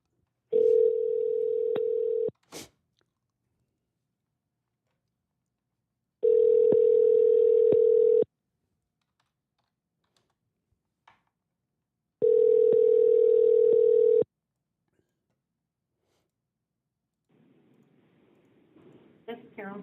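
A telephone ringback tone sounds while a number is being dialed: three steady, evenly spaced rings, each about two seconds long, separated by silence, followed by faint rustling.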